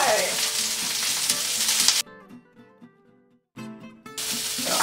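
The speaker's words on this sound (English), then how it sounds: "So I would say the green pepper takes the longest. That goes in first. You want to stir that around a little bit?" Green pepper frying in a hot pan while being stirred, loud crackling sizzle that cuts out midway and then returns just as strong.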